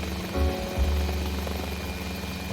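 A Mini 500 light helicopter in Microsoft Flight Simulator VR gives a steady, close, low rotor drone with a throbbing engine hum that swells slightly, with no talk over it.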